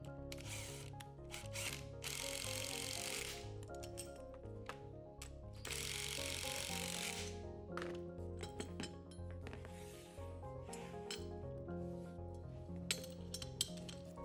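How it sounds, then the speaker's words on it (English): Nuts run down onto suspension bolts with 9/16-inch hand tools during a DF Goblin front suspension build: rapid ratchet clicking in repeated bursts with metallic clinks, close and quiet, over a faint musical background. "Install the washers and nuts. Run the nuts down with 9/16" tools."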